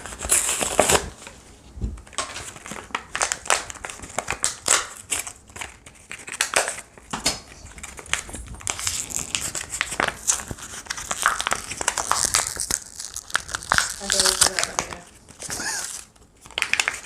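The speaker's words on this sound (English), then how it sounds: "I'm going to open the command strips and hang those up." Plastic packaging for Command strips gets crinkled, crumpled and torn while being opened, dense irregular rustling bursts close up over a long stretch.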